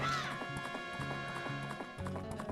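Epona, the horse in the Majora's Mask video game, gallops with a quick, steady clip-clop of hooves over ongoing game music, close and clear throughout.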